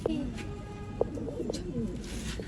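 Pigeons for sale in Bangalore coo in low, soft bursts, a few distinct calls standing out over steady background murmur and faint noise.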